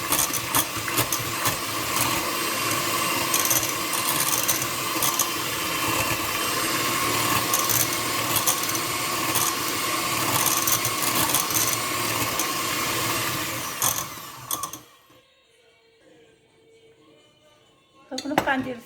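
Orange cake batter being mixed in a bowl, a continuous busy scraping and clinking of utensil against the dish for about fourteen seconds before it stops abruptly, leaving near silence and a brief clatter at the end.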